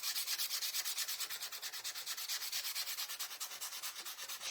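Wooden craft pieces for rustic patriotic decor being sanded by hand, a quick, steady back-and-forth rasping rhythm repeating evenly and close throughout, with no talking.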